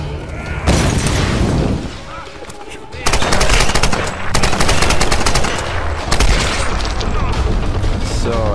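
Gunfire in Tomb Raider Definitive Edition, loud rapid automatic bursts and heavy booming shots repeating close by, with someone talking over the shooting.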